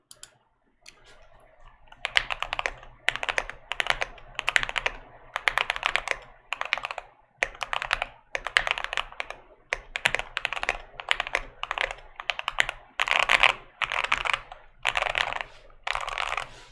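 Clacky typing on a mechanical keyboard with Alpaca switches on an FR4 plate, a D65 board with the Holee mod. Close, crisp bursts of keystrokes come in quick uneven clusters with brief pauses.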